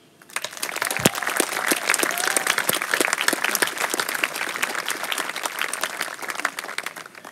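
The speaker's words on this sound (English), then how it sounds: "How about a round of applause for all the performers" An audience at a 2018 commencement ceremony claps for the performers, a thick, even burst of many hands that rises quickly and holds steady for about seven seconds, with no one speaking.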